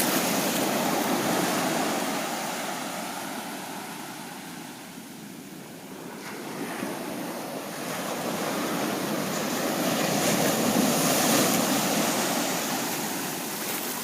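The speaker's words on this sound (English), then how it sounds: "The eternal beauty of the waves." Ocean waves on Santa Cruz beach roll in with a continuous broadband roar that swells, eases in the middle, then builds again, heard up close with no voices.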